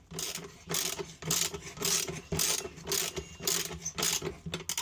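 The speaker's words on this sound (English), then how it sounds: "there's 2 bolts right here and right here that we need to take off" Bolts being loosened on a Drummond 1HP submersible sprinkler pump with a hand ratchet, rapid clicking strokes repeating in quick bursts, close and fairly quiet, no voices.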